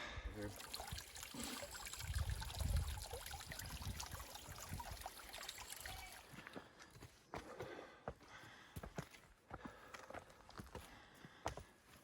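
Spring water pours steadily from a pipe on a mountain hiking trail, a continuous splashing trickle close by that fades as footsteps crunch away on the path.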